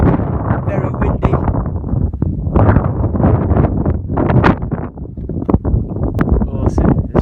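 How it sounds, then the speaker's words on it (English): Gusty wind on a Madagascar mountain summit at 2,658 meters buffets the microphone in loud, uneven rumbles, mostly under people talking close by. "Very windy."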